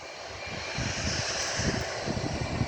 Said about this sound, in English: Yeah, it's coming the giant plane.